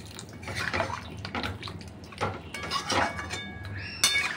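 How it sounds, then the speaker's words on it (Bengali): Hot water splashes and sizzles into a pan of oily Bengali mutton kosha, with several close pours and bubbling bursts, ending in a sharp hiss. "এই জল দিলাম, গরম জল"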